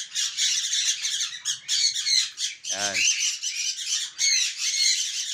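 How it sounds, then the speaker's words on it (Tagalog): A crowd of caged birds in a breeder's aviary in Valenzuela squawk loudly and continuously in overlapping harsh calls, with someone speaking briefly among them. "Ayan, mga ibon ni Sir,"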